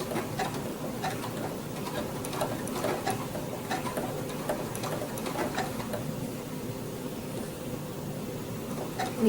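A sewing machine runs steadily, stitching quilt binding in blanket stitch, with a continuous close hum and faint rapid needle ticks throughout and no talking.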